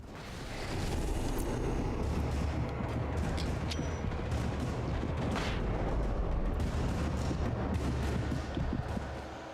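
Dense, continuous roar of flashbang blasts and gunfire from the video game Alan Wake, heavy low rumble sustained for most of the clip with scattered sharper bangs, loud and close with no speech.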